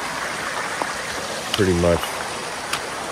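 Mountain stream flowing beside a hiking trail, a steady broadband rush that runs throughout, with someone speaking briefly over it partway through.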